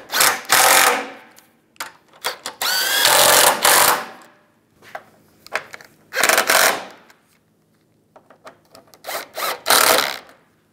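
Power tool driving down the bolts on a replacement radiator in a 1999-2005 Volkswagen Jetta, heard as several short bursts of whirring with pauses between them, close and loud.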